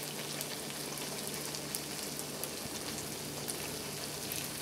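Small balls of puff puff dough frying in hot oil, a steady soft crackling sizzle, quiet and continuous throughout.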